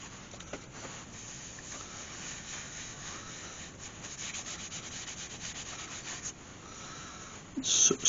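Sand sealer is rubbed onto a burnt hawthorn wood vase, giving a soft, continuous close-up rubbing and scuffing that ends in a few louder brushes.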